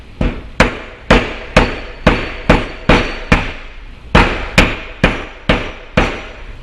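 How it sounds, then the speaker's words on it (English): A rubber mallet taps a rubber valve seal onto an overhead valve stem in about fourteen sharp, evenly spaced knocks, each close and loud with a short decay, one brief pause midway. "And then just kind of seat it originally with a rubber mallet."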